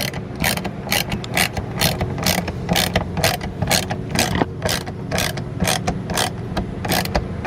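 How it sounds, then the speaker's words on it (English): A T20 Torx bit being tightened on a vehicle mod: a loud, close, rapid ratcheting click repeats steadily in even strokes throughout. "I'm gonna tighten my T20 Torx bit."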